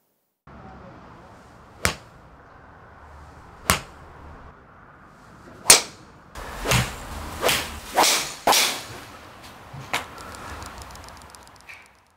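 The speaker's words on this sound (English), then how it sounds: "Right, Neil, we've hit a lot of golf shots there." Golf balls, including Callaway Chrome Soft X and Titleist Pro V1 balls, struck indoors into a net: around eight sharp, cracking impacts, spaced at first and then in a quicker cluster, close and loud over a low room hum.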